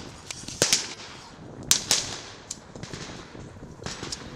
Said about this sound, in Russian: Разведчики, красноармейцы штрафного батальона взрывают комендатуру.